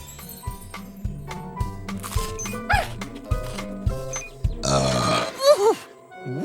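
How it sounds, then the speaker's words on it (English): A cartoon character lets out a big burp, a loud throaty rumble following a stretch of bouncy music and sound effects, close and prominent near the end. "That was a big burp"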